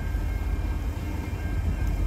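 CN freight train L564 starting up gives a steady low diesel rumble with a faint tonal whine, continuous and fairly loud throughout, no voices.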